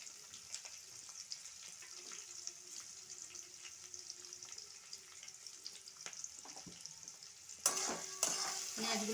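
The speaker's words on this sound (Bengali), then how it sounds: "পেঁয়াজগুলো ভালোভাবে ভেজে নেব।" Chopped onions frying in a pan with ground pepper, a steady quiet sizzle with occasional stirring clicks, turning louder and brighter near the end.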